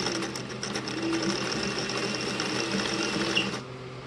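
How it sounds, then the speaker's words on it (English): A sewing machine running steadily at close range, stitching rickrack trim along the edge of a hoodie, a continuous even whir with rapid needle chatter and no talking. "you want to sew that rickrack as close to the edge as possible."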